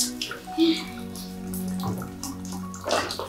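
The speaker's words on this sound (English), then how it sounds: "Turn off my water!" A water tap runs in a home kitchen or bathroom, a steady splashing flow with faint dripping, heard briefly without speech.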